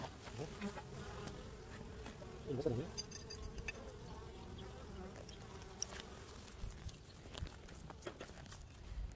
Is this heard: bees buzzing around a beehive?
yes